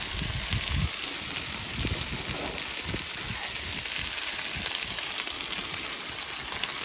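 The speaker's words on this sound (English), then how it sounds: "Getting the oil going, getting a good shallow fry. Get them peppers going, get the potatoes going." Peppers and potatoes shallow frying in oil on a Blackstone griddle make a steady, close sizzle with scattered pops and light scraping knocks, no voices.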